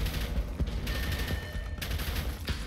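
Gunfire rattles at the player in the shooter game Dark Sector, a few sharp bursts of shots over a dense, continuous noisy background with no talking.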